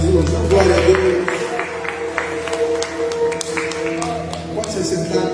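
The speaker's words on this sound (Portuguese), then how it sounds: "Dá um aplauso ao Senhor Jesus." A church congregation claps together for Jesus during a service, a dense, steady wash of applause filling the room for several seconds, with music and a voice continuing underneath.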